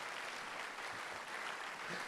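Church congregation gives a brief, faint patter of applause, a thin continuous clapping wash heard from within the hall with no voices over it.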